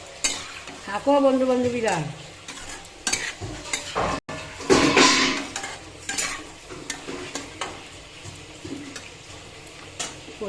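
Curry sautéing in a hot pan, sizzling continuously as a utensil scrapes and stirs in irregular strokes, with a brief spoken phrase over the cooking noise.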